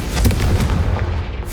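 A Confringo fire spell explodes in Hogwarts Legacy, a loud booming burst that peaks early and then rumbles and crackles as it fades over a second or so, with no voices.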